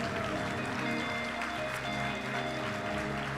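Steady applause from a church congregation fills the clip, a continuous patter of clapping with background music or hum underneath.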